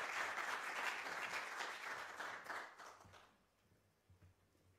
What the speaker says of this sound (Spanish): Le damos entonces un aplauso a Alberto.